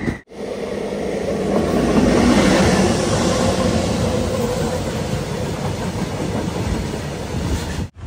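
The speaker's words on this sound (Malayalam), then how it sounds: "ട്രെയിൻ ഇതാ ഉരുട്ടി ഉരുട്ടി ഉരുട്ടി പോവുകയാണ്." A Sampark Kranti Express rolls along through Kerala, a loud continuous rumble with rhythmic clickety-clack of wheels heard from inside a sleeper class coach, steady throughout with no voices.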